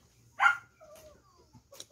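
A dog gives one sharp, close bark, followed by a faint whine and a couple of soft, distant yips in an otherwise quiet setting.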